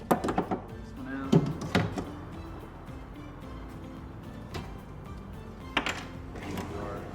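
A drawer being pushed in on retrofitted soft-close drawer slides, giving several close wooden thunks and knocks at the start, a quieter rolling stretch, then a few more light bumps as it settles into place.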